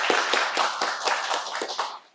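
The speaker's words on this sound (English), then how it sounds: "let's just give another round of applause to our candidates and the panel" Applause from a career forum audience, a sparse set of separate hand claps fading out within about two seconds.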